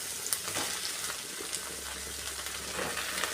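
Chopped vegetables with drumstick sauté in a pan, a steady close sizzle broken by light stirring scrapes throughout.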